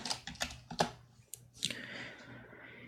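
Typing on a computer keyboard in a quiet room, with a few separate key clicks and then a quick run of taps. The sound is close and faint, and no one speaks.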